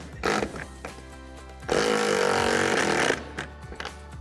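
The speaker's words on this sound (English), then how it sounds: "Then we're gonna tighten it down with a 17 millimeter socket and a ratchet." A ratchet with a 17 mm socket tightens a tonneau cover rail bracket on a RAM 1500 pickup, giving a few short bursts of rapid clicking and one longer continuous ratcheting run, close and moderately loud.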